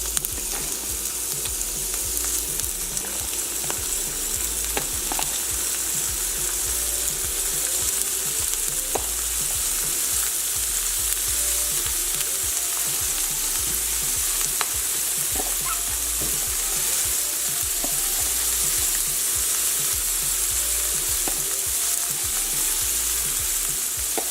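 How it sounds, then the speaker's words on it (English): Shrimp fry in a hot pan, giving a steady, loud sizzle that runs unbroken throughout, with faint occasional ticks and pops and no talking. "Drop the shrimp in. You want to cook for about a minute, then we're going to flip it."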